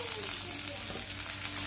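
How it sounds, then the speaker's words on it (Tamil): Chopped onion sizzling in oil with ginger, garlic and green chili for a restaurant-style fish Manchurian, giving a steady close frying hiss throughout. "சேர்த்துட்டு வெங்காயத்தை வதக்கலாங்க."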